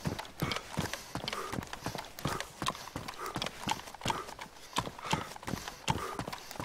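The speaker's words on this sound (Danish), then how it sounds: "jeg løber ude på siden af vejen" A character runs along the side of a road in the video game DayZ, footsteps thudding in a quick, steady rhythm of sharp close impacts throughout.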